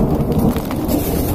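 Heavy daytime storm rain pours down in Delhi with a low rumble of thunder underneath, a dense, loud, continuous wash of sound.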